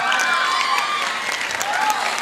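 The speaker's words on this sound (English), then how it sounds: "Please guys, everyone stand up and give a big round of applause." Continuous clapping from a standing audience at a chartered accountants' knowledge session, mixed with some cheering and voices over the applause for a couple of seconds.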